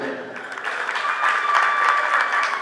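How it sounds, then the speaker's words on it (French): Guests at a wedding evening party applaud the bride, a dense wash of clapping that swells midway and holds steady, with a background tone running beneath the crowd. "Applaudissez pour elle."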